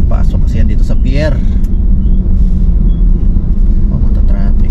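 Heavy road traffic with container trucks and trailers near a pier, a loud continuous low rumble of engines close by, with a person talking over it at the start.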